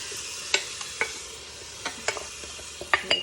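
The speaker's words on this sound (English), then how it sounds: "That's why you hear that sizzle." Mung beans and quinoa sizzle in a hot pan with a little leftover water, a faint steady crackle broken by sharp scraping clicks of stirring at irregular intervals, close and fairly quiet.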